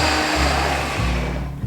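Blender whirring steadily as it purées pumpkin with spices into a vegan pumpkin spice latte syrup, a loud continuous motor drone with a brief dip in pitch midway, no talking.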